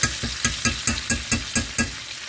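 Garlic compound butter sizzles in a pan under a rhythmic series of about nine scraping stirs, each stroke a crisp, evenly spaced swish over a constant frying hiss.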